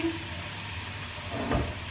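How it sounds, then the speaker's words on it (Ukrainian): Garlic sizzles softly in oil in a frying pan that has been taken off the heat, a low, steady crackle with a slightly louder burst of spitting near the end. "Бачите, він стоїть зараз не на вогні, але смажиться."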